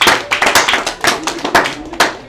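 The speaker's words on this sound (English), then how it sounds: "Give her a round of applause." Several hands clapping for a poet in a quick, uneven burst, close and fairly loud, sounding like a small group rather than a large crowd.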